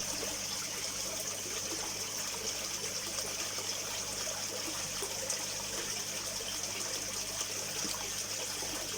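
Water flowing through airlift pipework driven by an air pump, a steady continuous trickling and gushing with constant bubbling, close and even throughout.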